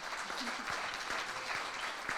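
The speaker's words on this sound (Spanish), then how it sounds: "a los que les pido un aplauso también" Short burst of audience applause at a panel event, a dense, even patter of clapping hands heard alone at moderate volume.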